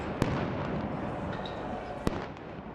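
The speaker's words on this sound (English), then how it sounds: "with Israeli police using stun grenades" Two sharp stun grenade blasts go off at a distance in Jerusalem's Old City, separated by a couple of seconds, over a dense crowd roar.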